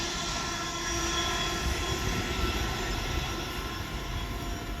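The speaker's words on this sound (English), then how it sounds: "Now passing through is going to be our first freight train of today, which will be a Class 66 for DBRF Cargo" A Class 66 diesel freight locomotive for DB Cargo passes through Lichfield Trent Valley station, a loud, steady roar of engine and rolling wagons filling the whole stretch without letup.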